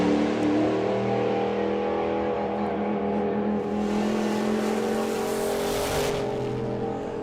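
Drag racing car engine roars loud and sustained at a nostalgia drag strip, labouring slightly as the pitch wavers, with no talk over it.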